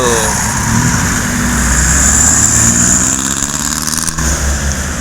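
A large vehicle engine rumbles loudly nearby as it passes, with a whining high tone and a shift in the roar near the end.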